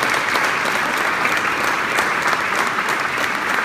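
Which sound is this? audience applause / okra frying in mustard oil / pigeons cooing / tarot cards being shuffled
audience applause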